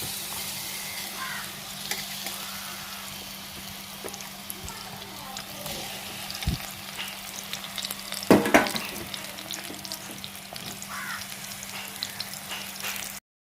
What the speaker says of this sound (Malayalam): അപ്പോൾ നെയ്യൊക്കെ നല്ല ഉരുകി വന്നിക്കണേ. അപ്പം നമ്മളതിലേക്ക് പഴം അങ്ങനെ ഇട്ട് കൊടുക്കുക.